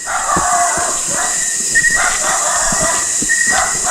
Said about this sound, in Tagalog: Grabe yung aso na yun ah.